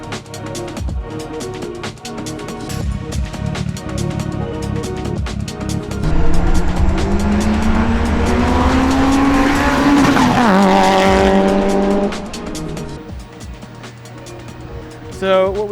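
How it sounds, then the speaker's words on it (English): A 2006 Mitsubishi Evo 9 engine revving hard, loud and close, pitch sweeping up through the gears and dropping back, with a voice talking over it. "But this is my 2006 Evo 9."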